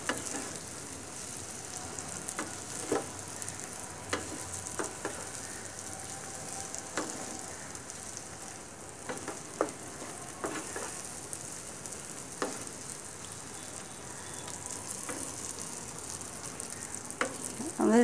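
Fish roe fries in hot oil with a steady soft sizzle, broken by occasional stirring scrapes and clicks from a utensil, with no voices.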